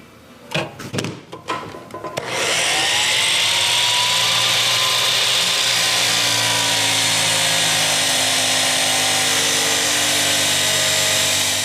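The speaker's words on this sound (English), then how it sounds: "That wheel on that die grinder is very scary." A die grinder fitted with a cutting wheel, used in a Honda CB350 monoshock build, spins up after a few short knocks and then screams in a loud, steady whine that holds for about nine seconds, with no talk over it.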